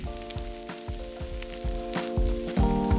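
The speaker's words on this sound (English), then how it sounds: "Now fry the potatoes, making sure the exterior is crispy and golden brown on both sides." Potatoes fry in a pan until crispy and golden, a continuous close crackling sizzle with quick popping spatters and a steady bright hiss, no voices.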